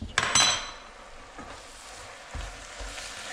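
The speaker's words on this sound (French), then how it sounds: "on vérifie les épinards pour les mélanger pour qu'ils réduisent correctement." Spinach being stirred down in a cooking pot, with a quick clatter of utensil against metal near the start, then soft scraping and wilting sounds at a low, steady level, no talking.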